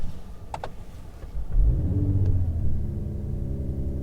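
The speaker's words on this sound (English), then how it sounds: "So let's start the engine in the emotion start." A 2022 Mercedes-AMG CLS53 4MATIC+ starts in its emotion start mode: a brief whir of cranking, then a loud rumbling catch and a short burst of revs that settles into a steady idle, close by.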